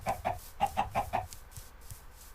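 Minecraft chickens cluck in the game world: six short, clipped clucks in quick pairs, then quiet, faint game ambience.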